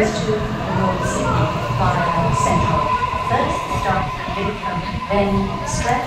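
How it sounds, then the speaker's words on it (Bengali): A double-decker local train rumbles in alongside a platform in Sydney with metallic screeching and hum, loud and close, while voices of people talk in the background. "ট্রেন এসে গেছে।"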